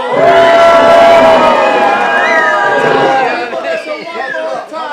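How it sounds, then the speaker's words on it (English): A crowd at a staged sword-duel show cheers wildly, a loud, dense wall of shouts and cheers up close that thins slightly toward the end. "The mob goes wild!"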